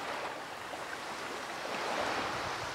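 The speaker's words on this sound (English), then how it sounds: "as you listen to the waves and the trees" Steady ocean surf washes continuously alongside wind moving through trees, a soft, even outdoor wash with no talking.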